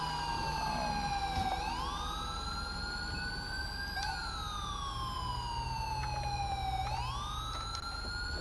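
A wailing siren in the video game LSPDFR rises and falls in long, slow sweeps, steady and moderately distant, with no voices over it.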